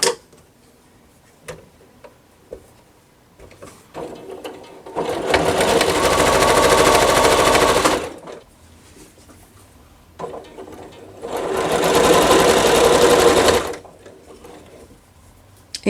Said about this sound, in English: I'm going to just put them together, sew them up